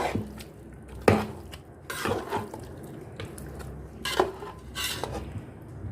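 Spices are worked into beef chops by hand in a bowl with wet squelching and mixing sounds, along with scattered clinks of dishes and cutlery close by. No one speaks.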